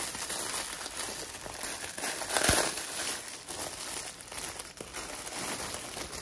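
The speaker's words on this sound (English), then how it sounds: "Open up the bread." Plastic wrapping on a loaf of multi-grain bread crinkles and rustles as it is opened, with a brief louder crackle in the middle and soft handling noise around it, close and fairly quiet.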